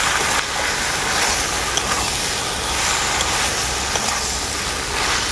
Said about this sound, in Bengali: সবজির সাথে মশলাগুলোকে আমি খুব ভালো করে কষিয়ে নেব।